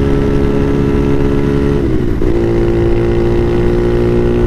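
A Bashan Motomax 250 motorcycle with a Nibbi PE30mm carburettor, its engine droning loud and close at a steady pitch that dips briefly midway and then holds.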